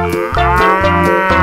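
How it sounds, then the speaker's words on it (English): A cartoon cow moos in one long, loud, sustained call with rich harmonics, heard alone and close with no talk over it. "cow,"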